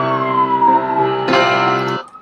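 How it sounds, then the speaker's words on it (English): A wailing emergency vehicle siren in a city sweeps steadily at close range, its harmonic tone shifting pitch partway through before cutting off near the end. "Apologize about the sirens."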